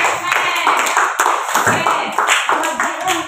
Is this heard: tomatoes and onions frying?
no